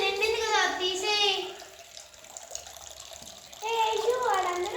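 Tap water runs into a container for washing a house, a continuous splashing gush that fades midway and returns, while children talk loudly over it.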